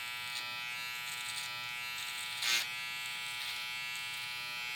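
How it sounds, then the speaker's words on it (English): Wahl electric hair trimmer buzzing steadily throughout a burst fade haircut, a constant bright hum with light tapping, fairly quiet with no talk. "This trimmer is moving."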